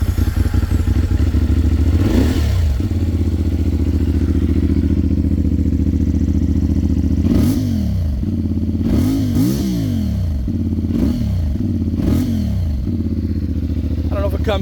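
A CFMOTO Ibex 450 or Royal Enfield Himalayan 450 motorcycle engine idles with a steady low stock exhaust rumble, punctuated by several sharp throttle blips that rev up and fall back.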